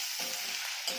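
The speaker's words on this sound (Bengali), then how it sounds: "এবার দেবো রসুন আর দেবো আদা রসুন বাটা দিয়ে আবারও ভাজবো।" Garlic and ginger paste frying in a pan, a brief, steady hissing sizzle heard up close with no pauses.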